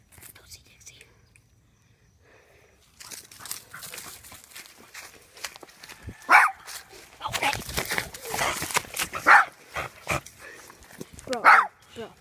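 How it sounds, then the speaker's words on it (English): A dog gives a few short barks or yelps at a distance under whispering and movement in the foreground. "There's a helping dog, Roxy."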